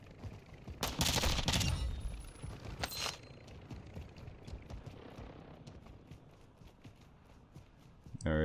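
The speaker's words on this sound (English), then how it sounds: "I do hear gunshots to my right." A burst of rapid gunfire rattles loudly for a couple of seconds in the DMZ mode of Call of Duty, followed by scattered fainter shots and clatter fading into the distance.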